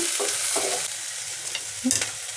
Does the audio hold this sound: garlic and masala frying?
yes